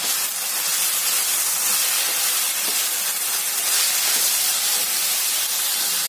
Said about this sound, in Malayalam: ഈ സമയത്ത് തക്കാളിപ്പഴം ചേർത്ത് കൊടുക്കാം. നന്നായിട്ട് വഴറ്റി കൊടുക്കുക.